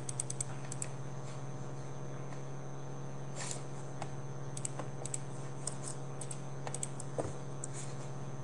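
Keys pressed on a computer keyboard during spreadsheet work, with sparse sharp clicks scattered over several seconds and a few closer clustered taps, all above a steady electrical hum and without talking.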